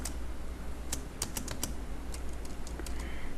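A computer keyboard clicks with a handful of quick, light keystrokes, including Alt+Enter, while working in Excel 365, quiet and close with no talking.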